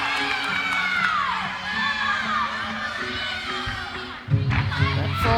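A home crowd at a college gymnastics meet cheers and whoops loudly and continuously, with high shouts layered over arena noise and a surge of cheering near the end.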